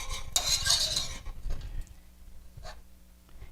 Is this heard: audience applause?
no